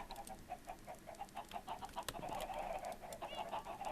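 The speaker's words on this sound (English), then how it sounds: "Lots of chickens. Very annoying." Chickens in the Minecraft modpack Agrarian Skies cluck in a steady, overlapping stream of short repeated calls, moderately loud, with no talking over them.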